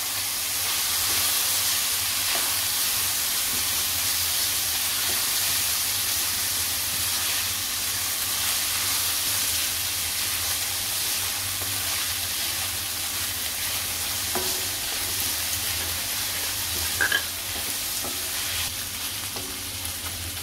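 Onion and tomato frying in a pan for a soya chunks masala, a steady, dense sizzle with faint stirring scrapes, close and continuous throughout with no voices.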